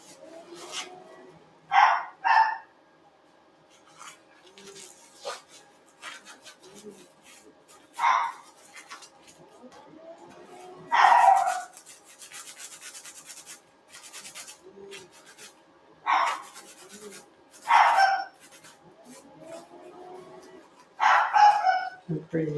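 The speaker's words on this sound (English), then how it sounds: "She's in there barking." Sharp dog barks come in short bursts, several clustered, with quieter scratchy and rubbing noises in between.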